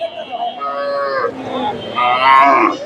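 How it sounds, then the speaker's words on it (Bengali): Friesian cross dairy cow mooing at a rural cattle market, two loud drawn-out moos close by, with no talking over them. "এই যে গাভী বাচ্চাটা"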